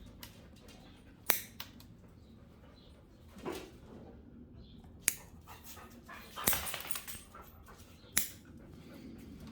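Playful dogs scuffle and pant quietly at a distance, with occasional sharp clicks and thumps from their romping over a faint, steady background hum. No one speaks.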